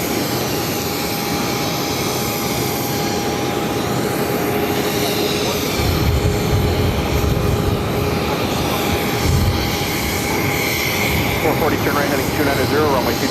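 A jet airliner at Boston Logan airport gives off a sustained engine roar that swells and fades slightly over about thirteen seconds, heard at a distance beneath continuous broadband noise.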